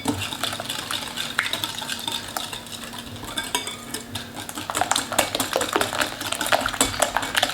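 Rapid clinking of a whisk or spoon against a bowl as melted butter is stirred into a thick egg-and-sugar cake batter, steady and close, growing a little busier toward the end.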